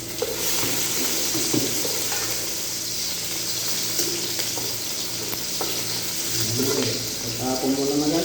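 Garlic sizzles steadily in a hot pan while it is stirred, a constant crackling hiss with occasional scraping, and a voice talks over it.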